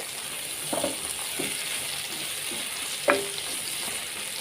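Eggplant pieces frying in hot oil on a raised flame for pickle, a steady sizzle with a few soft scrapes of a spatula stirring them, close and alone.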